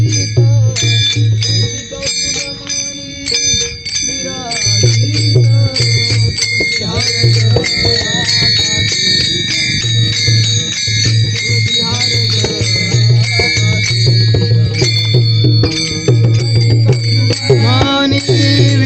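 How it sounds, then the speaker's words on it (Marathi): A hand bell rings continuously and loudly during a Hindu prayer, bright repeated metallic strikes overlapping in a fast rhythm, with a chanting voice and a low hum beneath. "घंटी"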